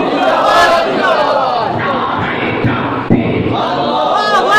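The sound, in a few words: crowd chanting in response to Nara-e-Takbir call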